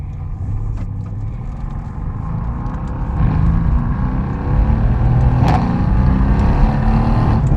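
A turbocharged car with a manual gearbox accelerates hard with traction control off, its engine drone loud and steady and rising in intensity partway through, heard from inside the car.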